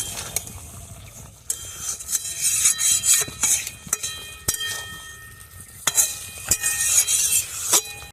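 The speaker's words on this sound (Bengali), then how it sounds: "এবার একটু নাড়াচাড়া করে শিমের সাথে একটু নাড়াচাড়া করে নেব" Flat beans with green chillies being stirred in a pan, metal utensil scraping and clinking against the pan in uneven bursts over a light sizzle, close and clear.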